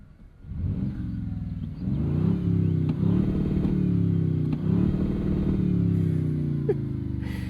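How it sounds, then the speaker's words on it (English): A tuned twin-turbo 2026 Toyota Tundra TRD Pro engine revs up and holds at a steady high pitch, bouncing against a soft limiter near 4250 rpm with a rough, pulsing drone that stays loud throughout. "it still has that like traditional Toyota rev limiter sound, which I just love so much"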